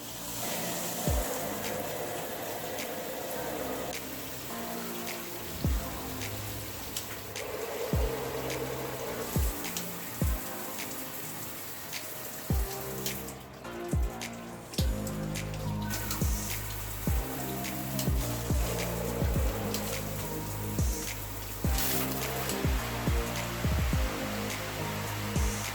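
An SR SUN RISE six-setting shower head with a 71-inch hose sprays water steadily for a long stretch, a dense hiss broken by intermittent knocks and clunks as it is adjusted.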